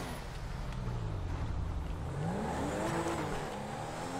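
Tuned car engine in GTA V, a steady mid-pitched drone that rises and falls with throttle as the car drives, continuous and fairly close with no talk.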